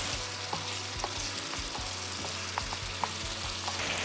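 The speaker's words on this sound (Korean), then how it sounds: "미리 양념 넣지 마시고 야채를 충분히 볶아줍니다" Meat, zucchini and cabbage stir-fried in a pan for Korean jajang sauce, a steady close sizzle with regular scraping strokes of a spatula against the pan roughly every half second, no voices.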